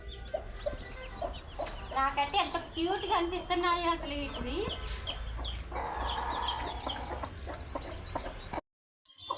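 A mother hen clucks among her newly hatched chicks, which cheep in bursts close by, while someone talks over them; the sound cuts out briefly near the end.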